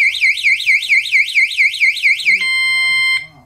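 A bike tail light's anti-theft alarm, set off by lifting the bike, gives a loud, shrill electronic warble rapidly up and down, then switches to a steady piercing beep before cutting off.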